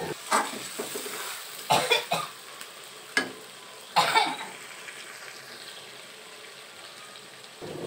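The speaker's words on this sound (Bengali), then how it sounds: "আবারও আমি সুন্দরভাবে নেড়ে নেব খুন্তির সাহায্যে।" Chicken khichuri with ginger paste stirred with a metal spatula in a pan: a few sharp scraping strokes over a steady faint sizzle, with quiet gaps between them.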